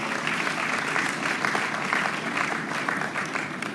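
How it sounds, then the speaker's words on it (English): Audience at a graduate induction ceremony giving a round of applause, a sustained, full wash of many hands clapping at moderate distance, steady in level without speech over it. "I think we should please give them a big round of applause."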